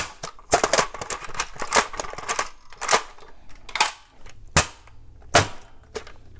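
A Dart Zone Pro MK-1 foam dart blaster fires repeatedly, with loud, close, sharp snapping cracks that come in quick clusters and then in spaced single shots, with no talk.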